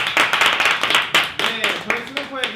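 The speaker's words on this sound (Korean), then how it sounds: "누나에게 박수!" Short burst of clapping from a small group in a casual indoor setting, several distinct uneven claps close by, with voices talking and calling out over them.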